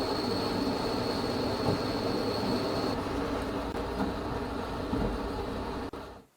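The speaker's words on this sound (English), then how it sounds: "There's a train coming up behind us, next to us. It looks like a BNSF." Long BNSF freight train passing close by, a continuous loud rumble of railcars with wheel and rail noise that holds steady before cutting off sharply near the end.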